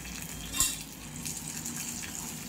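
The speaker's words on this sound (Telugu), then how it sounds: "పచ్చివాసన పోయే వరకు ఫ్రై చేసుకుందామమ్మా" Ginger garlic paste and curry leaves frying in a pan for a mushroom masala curry give a soft, steady sizzle with one brief clink early on, with no talking.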